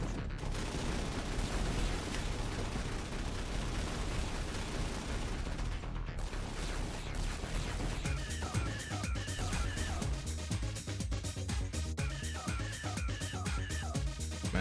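Reaper units firing on Centurion heavy armor in the strategy game Shattered Paradise, a dense, continuous clatter of rapid gunfire and mechanical battle noise, loud and sustained with no speech.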